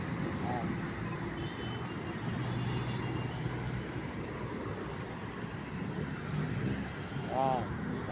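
Continuous road traffic drones steadily at a congested street, with vehicle engine rumble and a faint horn-like tone late on, and someone talking over it throughout.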